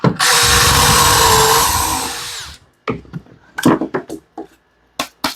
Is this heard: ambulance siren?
no